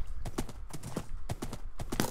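Hooves of a galloping horse in a video game clop in quick, rhythmic bursts, close and steady throughout the short stretch, with faint voices in the background.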